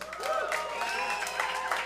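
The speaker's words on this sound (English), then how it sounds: "Let's do a little round of applause. Make some noise if you've been here for a show before" Comedy club audience at a stand-up show applauding and cheering, a dense wash of clapping with whoops and raised voices, moderately loud and continuous for a brief moment.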